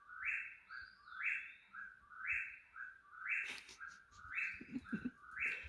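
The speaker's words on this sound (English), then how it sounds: "There's a bird that makes that noise at night here." A bird calling at night in Shenandoah National Park repeats a bright two-note call over and over in a steady rhythm, fairly close, with faint background noise and no talking.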